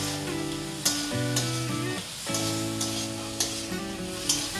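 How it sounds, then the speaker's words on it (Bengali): Fried crab pieces stir-fried in spice paste in a pan, a steady sizzle with periodic scraping stirs and light clanks of the spatula, close, with sustained music tones running underneath and no talk. "এবার আমি এর মধ্যে দিয়ে নেব ভেজে রাখা কাঁকড়াগুলো। মশলার সাথে আমি ভালো করে আবারও কষিয়ে নেব।"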